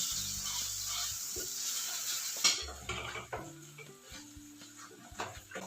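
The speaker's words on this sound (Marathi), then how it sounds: "वाटण कांदा टोमॅटो आपण तेलामध्ये परतून घेतलेला आहे" Onion-tomato paste sautéing in oil for shev bhaji, with a soft sizzle under clinking and scraping of a spoon against the pot, the stirring knocks coming in irregular bursts.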